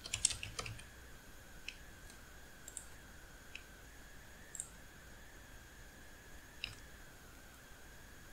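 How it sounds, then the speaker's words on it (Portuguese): Quiet, rapid clicking of keys on a computer keyboard while functions are written into a program, irregular bursts of light taps with short pauses, close by and with no one talking. "Vou criar aqui, digitar funções"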